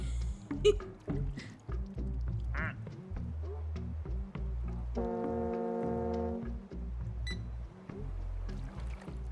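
A ship's foghorn sounds in the Placid Plastic Duck Simulator video game, a sustained loud tonal blast lasting over a second amid background music, with scattered duck quacks and game ambience around it.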